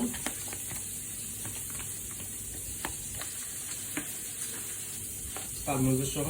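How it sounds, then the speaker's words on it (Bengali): Hot risotto rice being stirred with parmesan in a pan, a steady hissing sizzle with soft scraping and tapping stirs throughout, growing briefly louder at the end. "আমাদের এই রাইসটা গরম হয়ে গেছে, এটা ভালো মতো মিক্স করবো, এটা পালমেজো সহ"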